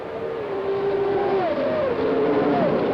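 Formula 1 race cars at the 1992 Canadian Grand Prix scream past in a close train, high engine whines rising and falling steadily, loud and near, with no talk.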